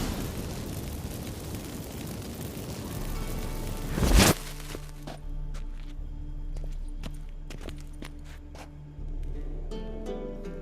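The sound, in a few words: magic fireworks from activated incense in The Witcher 3 video game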